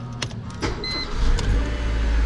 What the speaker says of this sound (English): If we turn on the switch and start the car, okay, we start up the car.